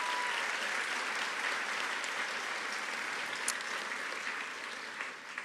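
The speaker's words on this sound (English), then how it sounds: "If we could have a round of applause for them as well." A large audience applauds the professors at a university baccalaureate ceremony, a broad, steady wash of clapping that holds even throughout, with no talk.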